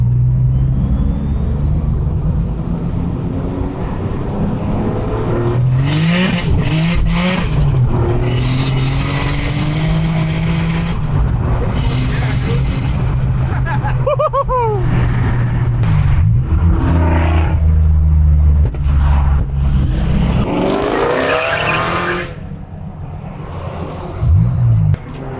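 A boosted Acura TL-S pulls hard uphill in second gear, its loud, continuous engine roar rising in pitch through the rev range, with turbo whoosh and sweeping tones near the end, heard from inside the car.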